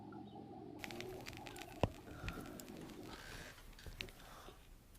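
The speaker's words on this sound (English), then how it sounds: "birds tweetering." Birds chirp and call in short, scattered bursts outdoors, over a steady low rumble of distant traffic.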